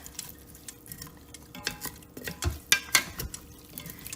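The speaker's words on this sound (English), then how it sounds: "stir that together a little bit" Beef stew ingredients with celery and parsley stirred in an Instant Pot, giving a run of close wet scraping and clinking strokes with soft liquid splashes, loudest toward the middle.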